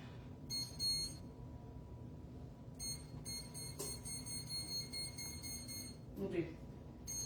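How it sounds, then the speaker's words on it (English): Electronic kitchen timer beeps in short bursts as buttons are pressed to set it, faint and close in a quiet kitchen beside an oven, with a brief clatter near the end. "So let me set my timer."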